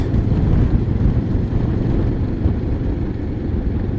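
Keeway/QJMotor motorcycle fitted with a Kawasaki engine running, a steady, loud low rumble without pauses, mixed with some wind-like noise.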